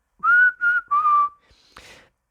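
A man whistles as he walks away: three sustained, bright whistled notes in close succession, near and clear, then a faint, brief fading tail.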